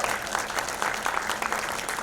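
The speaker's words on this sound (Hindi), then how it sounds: "गोगा कपूर साहब के लिए जोरदार तालियां हो जाए." Enthusiastic audience applause for actor Goga Kapoor at a special film anniversary screening, a dense continuous wash of clapping from a large crowd.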